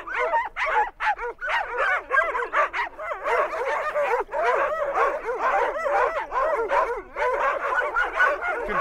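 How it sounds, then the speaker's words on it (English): A pack of sled dogs in Kamchatka barks and yips excitedly before a walk, a dense, continuous, close chorus of overlapping voices. "and they all start barking."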